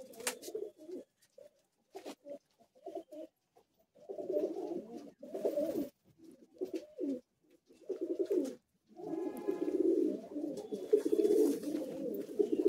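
Madrasi high-flying pigeons in a Kolkata loft coo close at hand in repeated throaty, rolling bursts separated by short pauses, with overlapping calls growing denser toward the end.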